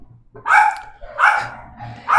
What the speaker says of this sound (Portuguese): Ignore minha cachorra latindo.